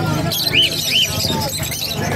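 Pet birds give two short, high chirps at the crowded Bocaue pet bird market, half-buried under loud, constant crowd noise and people talking nearby.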